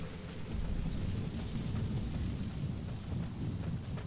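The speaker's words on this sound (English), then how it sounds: "once this storm passes by" Thunderstorm in the stealth action game Metal Gear Solid 5, a steady loud wash of heavy rain with low rumbling thunder rolling underneath throughout, no talk over it.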